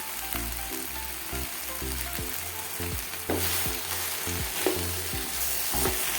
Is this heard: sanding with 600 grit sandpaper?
no